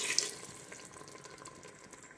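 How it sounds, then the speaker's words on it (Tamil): Tap water runs into a cooking pot while tomato rice is being made, a brief, fairly quiet steady splash with a sharper burst at the start and no talking. "இப்போ வந்து நம்ம தண்ணி சேர்த்துக்கலாம்."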